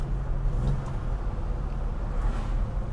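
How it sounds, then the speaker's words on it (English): Old Ford Capri 3000 GT XL with an overhead valve V6, cable throttle and big carburettor, gives a steady low grumble at a constant volume throughout, like an interior or onboard engine drone. "It's an old overhead valve V6, and with all that displacement, has such that, just that lovely grumble to it."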